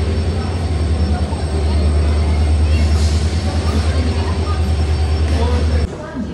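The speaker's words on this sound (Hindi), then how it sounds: "Guys, we have reached Amritsar railway station." Loud, steady rumble of a train arriving at Amritsar railway station with a high whine overhead, ending abruptly in quieter station ambience.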